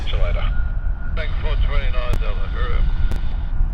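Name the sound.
airplane arriving at Sydney Airport, flight from Adelaide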